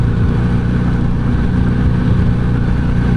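A Kawasaki Z900RS motorcycle engine drones steadily while riding, a constant low rumble blended with wind noise and no clear changes in revs.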